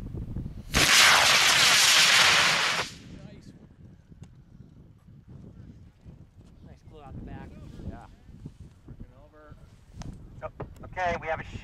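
A model rocket with an AeroTech H123W motor launches with a loud roaring burst lasting about two seconds, followed by wind noise outdoors and people talking.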